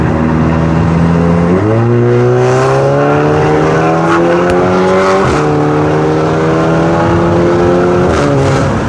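A loud Stage 3 tuned car engine revs close by, climbing in pitch, dropping sharply at each gear change, then pulling hard again.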